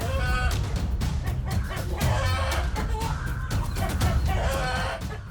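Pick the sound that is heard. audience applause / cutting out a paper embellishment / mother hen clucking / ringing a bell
mother hen clucking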